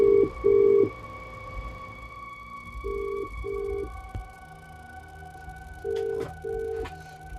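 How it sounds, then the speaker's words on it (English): Skype call ringtone sounding three times in repeated double-note bursts, clear and fairly loud with pauses between, over a steady electronic hum in a quiet room. "You should hear it ringing in a minute."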